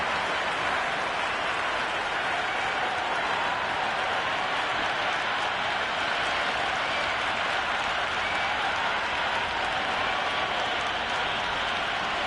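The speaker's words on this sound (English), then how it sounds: "The crowd are making a heck of a lot of noise even before the first ball's been bowled" A large stadium crowd at a cricket match in Jeddah roars in a dense, continuous wash of cheering and clapping that holds steady throughout.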